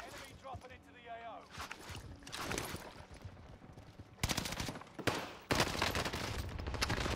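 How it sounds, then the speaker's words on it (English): Call of Duty: Modern Warfare gameplay brings repeated bursts of rapid automatic gunfire, some distant and some loud and close, with faint voices mixed in. "there's people shooting at the loadout"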